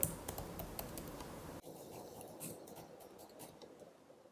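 Keys clack in a quick, irregular burst as a password is typed on a computer keyboard, close and fairly quiet, with a short pause partway through before the tapping resumes.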